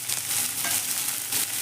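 Grated ginger and capsicum fry over a high flame for cabbage Manchurian, making a brisk, close sizzle with bursts of stirring across a short stretch, no voices.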